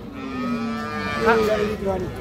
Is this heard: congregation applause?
no